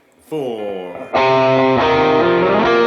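A heavily driven, high-gain electric guitar rings out, drenched in eighth-note echoing delay and wide cloud reverb, loud and sustained after a few spoken words.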